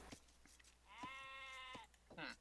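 A sheep bleats in the video game Age of Empires, one drawn-out wavering bleat of about a second, moderately loud, between soft clicks and brief background talk.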